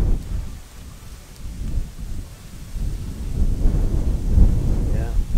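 Heavy rain falling outdoors at a park amendment site, with a deep rumble of thunder rolling beneath the steady hiss; loud and close, with no clear speech.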